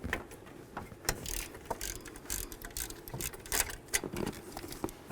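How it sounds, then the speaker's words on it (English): Wrench or ratchet work loosening the top passenger-side alternator mounting bolt on a Chevy S-10, with irregular clicking, tapping and metallic rattles close by, no talking. "let's continue on to removing this bolt on the top passenger side of the alternator"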